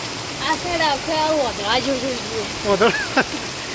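Heavy rainwater rushes steadily around a rain-filled village pond, a constant loud hiss of falling and flowing water that runs beneath someone talking throughout.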